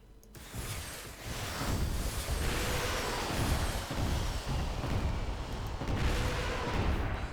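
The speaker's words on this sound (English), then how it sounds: "And that is a lot of rockets." A dense, continuous rocket artillery barrage fires in the Totaler Krieg mod strategy game, a steady roaring wash of launches and booms that stays loud for several seconds without letting up.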